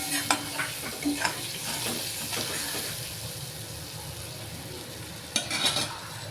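Hilsa fish and eggplant frying in a pan with turmeric and salt, a steady sizzle with occasional scrapes and stirring clatter, including a sharper clink near the end.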